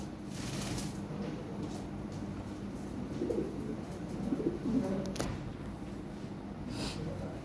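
Lahore Siraji fancy pigeons in their own cage give soft, low cooing and snorting calls, close and steady with a few brief louder notes, alone without talk.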